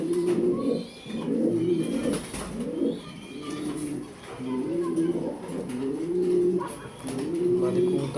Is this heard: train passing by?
no